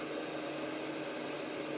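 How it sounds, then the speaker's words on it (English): Homemade automatic hand dryer built from a hair dryer, running with a steady, close whooshing blower noise that stays even and unbroken throughout, with no talk. "This is an automatic hand dryer."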